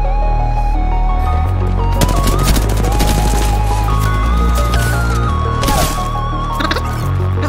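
Gunfire in Apex Legends, rapid automatic shots rattling over loud game music and effects, continuous and close without a pause.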